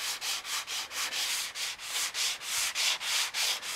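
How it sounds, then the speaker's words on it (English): Rhythmic strokes of a fine grit sanding block rubbing across primed wood between coats, about three per second, steady and close, with no talking. "I use a fine grit sanding block and sand in between coats"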